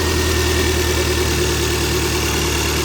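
A Hyundai car engine, previously blown and now with an exhaust leak, runs at a steady, loud, close-up idle with a constant rumbling drone throughout and no speech.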